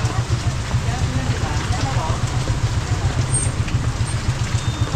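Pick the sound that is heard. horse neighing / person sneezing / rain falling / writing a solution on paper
rain falling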